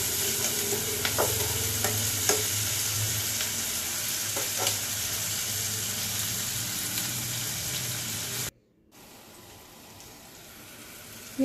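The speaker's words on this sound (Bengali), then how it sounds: "নাড়ার পর পেঁয়াজটা ভালো করে ভেজে নেব একটু।" Salted onions fry in a pan while being stirred, a steady close sizzle dotted with spatula scrapes and taps, before the sound cuts out briefly and returns quieter and thinner.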